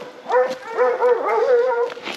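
Hunting hounds give excited yelping barks and whines in a continuous overlapping chorus, close and moderately loud, with no talk over them.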